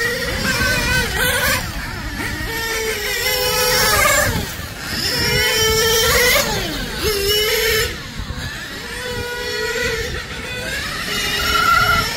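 A Hobao Hyper VTe GT8 electric RC car on a 3S battery accelerates with a rising, whining motor, surging several times over a steady background hum, close and fairly loud with no talk.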